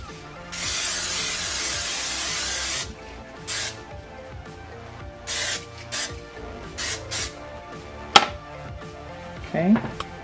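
Several hissing bursts of Pam aerosol non-stick cooking spray, one long spray followed by shorter ones, close up, with faint kitchen clatter between them.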